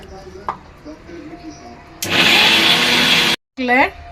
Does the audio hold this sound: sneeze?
no